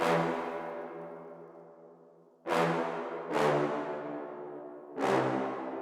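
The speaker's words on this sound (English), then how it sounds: "I just laid down a very simple pattern of brass that just follows the root notes of the chord progression." Brassy synth notes follow the root notes of a chord progression, sounding one at a time, a long held tone followed by three punchy stabs, each fading under a reverb tail, low end cut.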